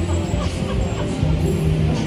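Cartoonish chicken clucking sounds from a slot machine's Crazy Chickens bonus feature over electronic game noise, with a voice talking faintly underneath.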